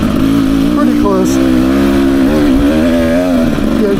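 A 2024 Beta 300 RR Race Edition dirt bike engine revs loudly and close up, a sustained buzzing drone that wavers in pitch for a few seconds.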